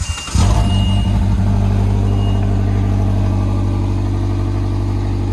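A 2016 Harley-Davidson CVO motorcycle engine starts with a short crank and catches, then settles into a loud, close, steady low rumble with a throbbing beat that holds to the end.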